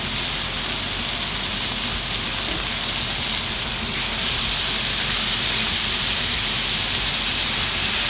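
Carne asada steak cooks in a hot pan with a loud, constant broad sizzle that hisses steadily and evenly throughout with no talk.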